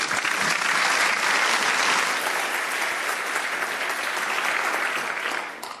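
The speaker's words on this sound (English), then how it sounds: "please give a big round of applause for Laura and Stephen." A conference audience claps briskly and continuously when tech talk presenters are introduced, then the applause tapers off in the final second.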